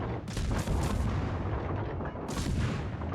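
Naval gunfire from warships in a World of Warships-style naval battle game, including a destroyer and cruisers, as a dense barrage of booming cannon blasts rolling continuously, loud and close, with two sharper bursts near the start and end.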